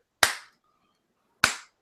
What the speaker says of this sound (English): And it's Phil Spencer clapping.